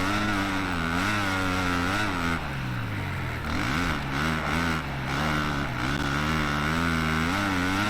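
A Kawasaki motocross bike engine in MXGP 2021 at Teutschenthal, Germany, revs continuously, its loud buzzing pitch rising and falling with throttle changes and a few dips and surges, with no talk over it.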